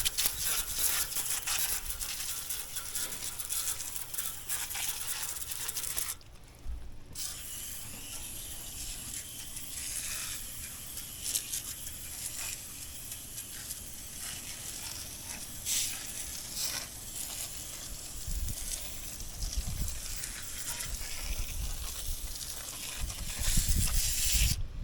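Coil cleaner is sprayed onto a heat pump coil, giving a continuous close hissing spray that briefly stops and then resumes, with some faint clicks and handling noises.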